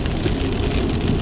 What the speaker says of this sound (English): I don't know if it's the truck in front of me spinning up all that water from the road, or if it's actually the rain, because it's actually really kind of picking up right now